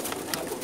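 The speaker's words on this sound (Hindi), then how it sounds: "बहुत ही प्यारे कबूतर है माशाल्लाह।" Ferozpuri pigeons for sale, giving a brief soft coo against steady background noise, with no talk over it.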